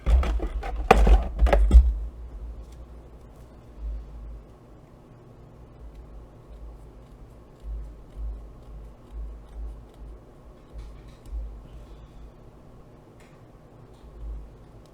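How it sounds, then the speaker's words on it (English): Scissors trimming the edges of paper card for a handmade coaster greeting card: a quick burst of close, crisp snips at the start, then sparse soft cutting clicks over a quiet room. "I can get the fine trim with my scissors."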